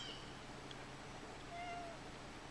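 A cat meows softly outdoors near trees by the Pacific Ocean, a few faint short calls over steady background noise.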